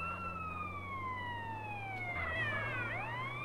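A wailing ambulance siren in the video game GTA San Andreas sweeps steadily downward in pitch, loud and continuous, over a low engine drone.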